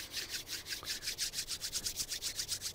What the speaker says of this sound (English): Now rub your hands together briskly.